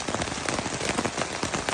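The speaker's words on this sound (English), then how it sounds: "there's thunder and it's raining now" Steady rain patters on a tent on the Appalachian Trail, a dense, close drumming of drops with no voices.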